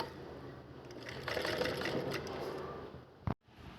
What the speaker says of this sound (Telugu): ఇలా ఫోల్డ్ చేసుకుని మళ్ళీ స్టిచ్ చేసుకోవాలి